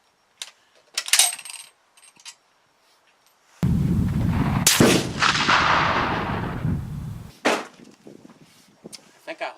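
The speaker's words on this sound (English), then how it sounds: "It seems to shoot GP11 ammunition real well." A rifle firing GP11 ammunition outdoors: one loud, sharp shot with a long, rolling echo that fades over several seconds, framed by quieter handling clicks and brief sounds before and after.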